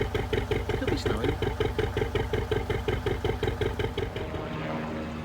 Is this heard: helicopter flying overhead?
yes